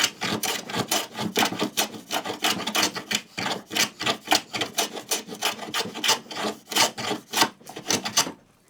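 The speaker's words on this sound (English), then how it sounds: "So we can see that we're taking a nice clean shaving here." A hand plane takes a shaving across pine wood after the grain has been scored with a cross grain nicker, giving repeated rasping strokes in a steady back-and-forth rhythm, close and fairly loud, with no talk.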